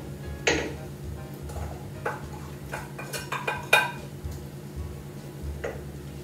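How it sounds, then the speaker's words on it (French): Apples go into a pan of rabbit stew in the Normandy style, with a series of sharp metallic clinks and spoon scrapes against the pan at an uneven pace, close and clear over a low hum. "On vient rajouter nos pommes."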